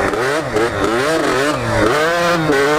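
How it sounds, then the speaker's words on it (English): A dirt bike engine hits its rev limiter, a loud, close buzzing drone that wavers rapidly up and down as it bounces off the cutoff, running continuously. "Rev limiter."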